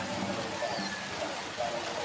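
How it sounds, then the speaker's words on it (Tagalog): Heavy rain falls at a construction site where steel decking is being laid on a second floor, a soft, steady wash of rainfall in the background, faint and continuous. "Sabi, sobra-sobrang ulan."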